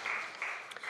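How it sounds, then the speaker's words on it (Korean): Brief, fairly faint clapping from a church congregation during a Sunday worship service, a short wash of applause lasting about a second. "우리 다시 한번 큰 박수로 축복하겠습니다."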